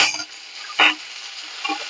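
Hot oil sizzling and crackling as green chillies and curry leaves hit the pan for poha, a steady hiss with a sharp spattering burst near the middle, close and alone.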